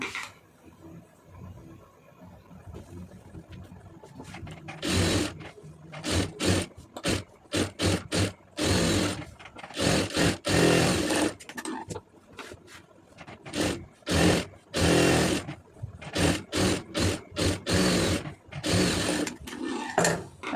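Domestic sewing machine stitching lace onto a blouse neckline, running in repeated loud mechanical bursts of rapid needle clatter separated by brief pauses and handling of fabric.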